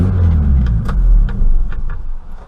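A car with a push-button start and a stale-petrol tank idles with a loud, steady low rumble. The engine is revved a few times in brief swells, with light metallic clinks scattered over the top.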